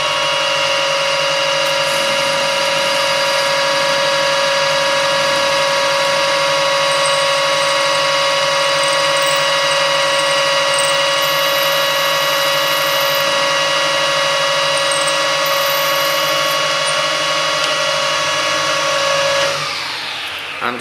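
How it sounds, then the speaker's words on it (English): A steady, loud machine whine with a constant pitch runs continuously as a lathe tailstock drill bores a hole in bar stock, then winds down at the end. "And it's as quick as that for drilling the hole."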